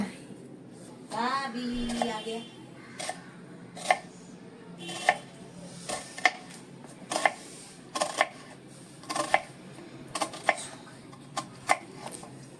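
A knife chops a medium-sized onion, not too finely, with steady, evenly spaced chops about once a second on a cutting board while someone talks over them.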